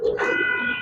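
Giribaz and coloured pigeons cooing close by, a single soft throaty coo followed by a sustained tonal call, with no voices.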